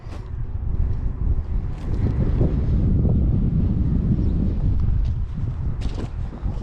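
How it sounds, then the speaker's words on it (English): Wind buffets a microphone outdoors in a farm hay field, a steady loud rumbling roar that swells and eases without stopping, with no other clear sounds above it. "Sorry about the wind."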